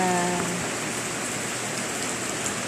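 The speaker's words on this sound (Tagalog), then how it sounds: "Sobrang init kanina, ngayon biglang umulan." Sudden rain after a hot day falls on a farm plot in a steady, soft hiss of drops pattering on surfaces, fairly faint and continuous, with a brief tonal sound fading out at the start.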